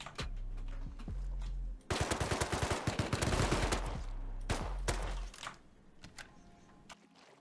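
Sustained loud automatic gunfire from big guns in the survival game Rust, a rapid rattling burst lasting several seconds before easing off to scattered shots against a low droning background.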